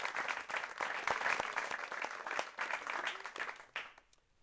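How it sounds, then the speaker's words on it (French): A choir audience applauds its conductor at a Christian variety concert, giving sustained, fairly loud clapping from a crowd that fades toward the end. "alors on acclame très fort."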